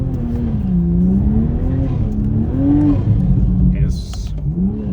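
A new Toyota Supra MK5 engine revs loudly while the car slides sideways, a steady close drone whose pitch rises and falls, with someone talking over it.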